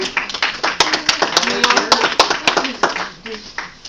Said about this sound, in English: Could I have a round of applause for our 2 brand new